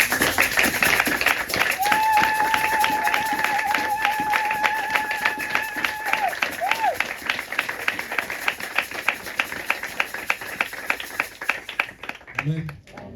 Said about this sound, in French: Est-ce que nous pouvons se lever et applaudir pour la parole de Dieu?